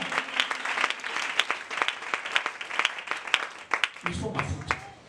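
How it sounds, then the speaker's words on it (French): A church congregation applauds with dense, lively clapping at close range, while a voice speaks over the applause near the end. "acclamons pour le Seigneur alléluia"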